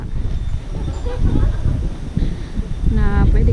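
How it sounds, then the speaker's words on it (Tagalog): Wind buffets the microphone outdoors at a dam viewdeck, a steady gusty rumble throughout with people talking under it. "Mahangin din dito."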